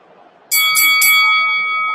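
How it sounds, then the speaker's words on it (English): A boxing ring bell rings to end round nine of a middleweight bout, three quick bright strikes that leave a ringing tone sustaining loud and close, over faint crowd murmur. "It's even as the bell sounds, ending round number 9"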